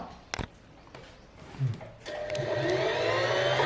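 Usha Janome Allure DLX sewing machine winding thread onto its bobbin, a steady motor whir that starts after a couple of clicks and runs continuously to the end, moderately loud and close.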